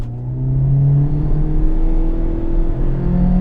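A 2019 Mitsubishi Eclipse Cross pulling away hard from a standstill after a brake-and-throttle launch at 2,500 RPM, its engine droning loudly and steadily while the pitch climbs gradually from inside the cabin, with no talking.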